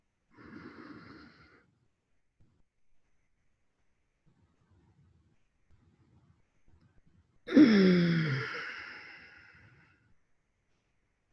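A slow, deep breath taken during a Tummo meditation session: a soft inhale near the start, then after a quiet pause a long, full exhale that swells and fades, close and alone.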